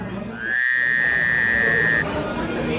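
Frogs in Oregon give a loud, steady chorus of trilling croaks near the microphone, with one long sustained trill standing out for about a second and a half over the dense background calling.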